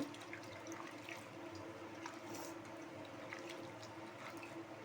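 Broad beans rinsed in water in a kitchen, a steady faint swishing and splashing close by, continuous throughout with no talk.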